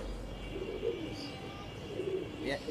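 Pakistani Teddy breeding pigeons coo softly and faintly in a quiet loft, with low murmuring calls spread through the stretch and a brief sharper chirp near the end.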